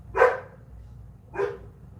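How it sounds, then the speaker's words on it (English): Two sharp dog barks, about a second apart, sounding close and loud over a low rumbling background hum. "What is he barking at?"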